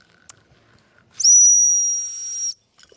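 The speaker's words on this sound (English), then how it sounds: "Let me see if I blow my whistle," A single sharp, high-pitched whistle blast, held for just over a second, rings out in a quiet woodland setting while out walking dogs, calling a dog back; loud and close, with near silence before and after.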